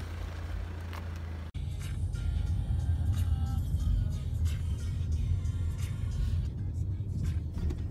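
An Uber car, a Mercedes, pulls up outside with a low steady engine rumble and road noise, fairly faint, after a sharp click near the start.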